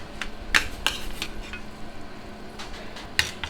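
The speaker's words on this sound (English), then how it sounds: "Just a final baste." A spoon clinks and scrapes against a pan while basting a crêpe Suzette with orange sauce in a restaurant kitchen, giving a few light, scattered metallic taps over a soft background hiss.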